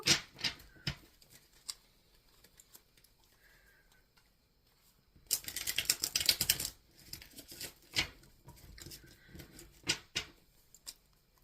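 Tarot cards being shuffled in bursts, a long riffling flurry in the middle framed by scattered sharp taps and quieter gaps.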